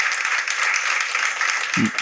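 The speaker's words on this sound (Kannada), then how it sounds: "ಚಪ್ಪಾಳೆ ಬರಲಿ." An audience at an inauguration and award ceremony claps steadily in a dense patter of applause, with a short voice breaking in near the end.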